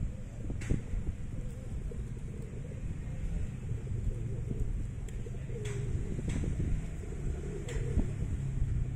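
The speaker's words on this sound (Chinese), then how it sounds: "这里还有很多鸽子停留在这里，" Pigeons coo in soft, low, repeated calls on India Street in Kuching, heard at moderate distance against a steady street background hum with occasional faint clicks.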